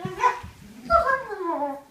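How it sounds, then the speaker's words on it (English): Dogs bark close by in a quiet indoor room: one short bark, then a longer burst of barking that trails into a whining yip. "Dogs. Shh. Shh."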